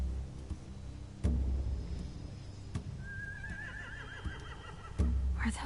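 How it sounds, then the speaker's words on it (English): Horses neigh in The Walking Dead video game, with one drawn-out wavering whinny partway through and a few sharp knocks and thuds around it, set against a low steady rumble. "They have horses."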